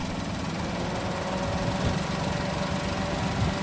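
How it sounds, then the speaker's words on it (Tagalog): A Toyota Innova engine idles steadily with the aircon running, giving a continuous low mechanical hum and vibration throughout, with no talk. "Mas lalakas ang vibration yan mga boss pag in-aircon, tignan nyo."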